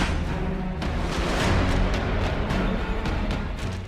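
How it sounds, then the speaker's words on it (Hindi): Firecrackers set off at night among village fields during a wolf scare, heard as a dense, rumbling series of bangs and cracks, some sharp and some distant, running continuously with no voices. "पटाखों की आवाज,"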